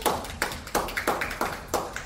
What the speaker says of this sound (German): Ja, da muss mal ein kräftiger Applaus her,